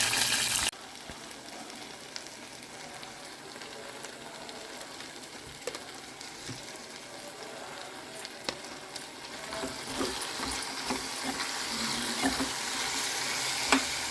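Potato curry cooks in a pan, giving a continuous soft sizzle and bubbling with occasional clicks and stirring scrapes, close and fairly quiet. The hiss swells a little toward the end.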